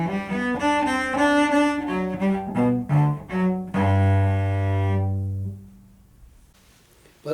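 Solo cello plays a Bach Menuet 2 passage with the D repeated twice, a run of bowed notes ending in a long sustained low tone that rings out and fades into silence.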